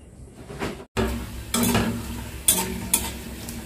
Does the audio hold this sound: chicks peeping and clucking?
no